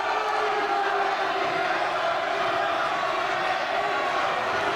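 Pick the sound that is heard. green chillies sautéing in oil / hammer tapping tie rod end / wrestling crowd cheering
wrestling crowd cheering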